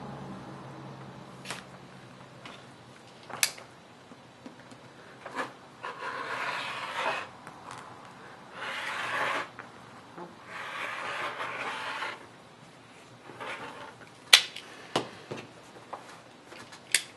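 Quilting fabric being cut into strips along a ruler: soft, close rasping strokes of a few seconds each, with scattered sharp clicks and taps at the start and end and no talking.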